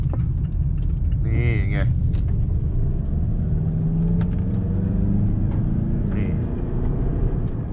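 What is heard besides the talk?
Mazda CX-8 diesel SUV making a U-turn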